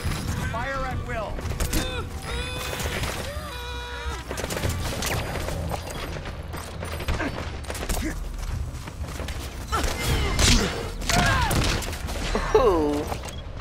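Gunfire in the video game Metal Gear Solid V: bursts of shots and impacts scattered through the scene, mixed with game mechanisms and crashes, while voices talk over much of it.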